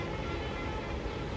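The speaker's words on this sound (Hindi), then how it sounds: "देखिए मेट्रो जा रही है।" A metro train passes by in the rain, giving a steady dense rumbling roar that holds at an even level throughout the brief moment.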